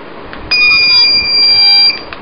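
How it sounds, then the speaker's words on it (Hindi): Buzzer on a homemade electronics project sounding during a test: a single steady, piercing electronic tone lasting over a second, loud and close, with faint background noise before and after. "ये आप बजर सुन पा रहे हो"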